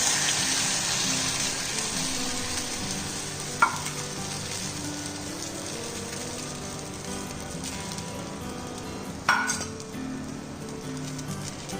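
Eggs fry in oil with butter or ghee, giving a steady close sizzle and crackle throughout, with two brief clinks of a utensil against the pan.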